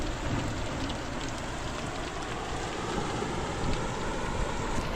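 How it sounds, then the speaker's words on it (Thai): Heavy rain pours down steadily on the coast during a fishing trip, a dense, constant hiss of raindrops with no pauses and no voices. "แต่ตอนนี้ฝนค่อนข้างจะหนักอยู่นะครับนี่"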